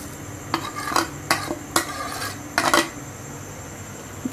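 Onions and spices sizzle softly in a pressure cooker while a utensil scrapes and clinks against the metal several times in quick bursts, close by and without talk.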